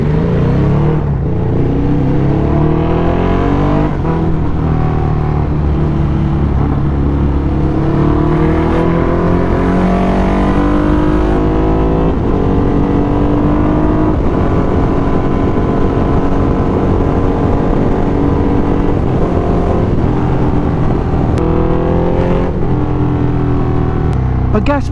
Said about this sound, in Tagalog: Full start, Ducati Hypermotard A21.